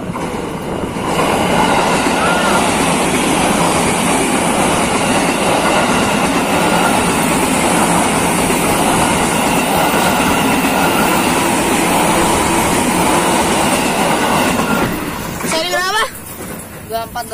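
A CC 204 diesel locomotive with its train rolls past at close range, a loud, steady rumble with rail clatter and wheel noise that fills most of the clip before easing off near the end, with a voice briefly audible.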